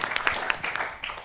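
A lecture audience claps for a speaker in a brief burst of applause, steady and fairly loud from many hands, over a faint room tone.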